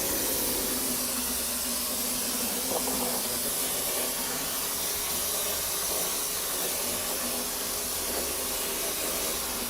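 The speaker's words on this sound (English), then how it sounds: "This air sprayer that I'm using puts down a nice 1/4-inch layer of concrete" Air-powered sprayer applying a quarter-inch layer of concrete onto a countertop, giving a steady, loud hiss of spray that runs without a break.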